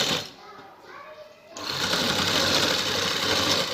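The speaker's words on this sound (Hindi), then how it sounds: "गले के अंदर आपको स्टिच करके दिखाएंगे" A sewing machine runs steadily while stitching a decorative neck design on a garment, starting with a few slower stuttering stitches and then going into a loud, continuous rapid whir close by, with a voice faintly under it.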